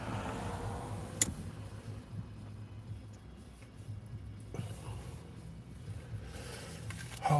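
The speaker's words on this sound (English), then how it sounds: "Oh, there's another pooper truck." A manure truck rolls past on a snowy rural road, a steady low vehicle rumble carrying throughout with a few faint ticks and a thump near the start.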